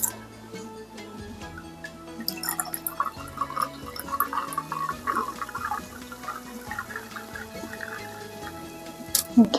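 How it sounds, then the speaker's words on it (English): California champagne is poured into a cocktail, giving soft liquid splashing and scattered fizzy crackles at moderate loudness, with a small clink near the end. "I'm going to top this lovely concoction off with some California champagne"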